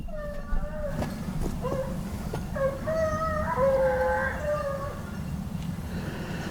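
Hunting dogs bay and howl during a hare hunt in the countryside, several drawn-out tonal cries at a moderate distance over steady background rumble, with people talking nearby.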